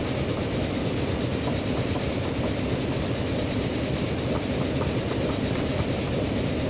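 An in-game train runs along the track in Transport Fever, a continuous loud rumble of wheels on rails with a rhythmic clatter and no talking.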